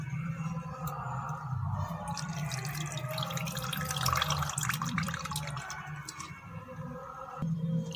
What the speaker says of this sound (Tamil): அரிசியை கழுவி நம்ம ரெடி பண்ணிக்கலாம்.